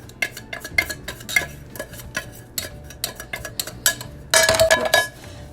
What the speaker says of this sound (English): we're going to put the tuna in first, and just try to kind of break it up